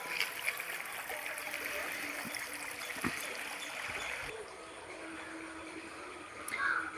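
A small village stream flows quietly, a soft, even trickle and hiss heard close by and faint throughout, with only a few light knocks.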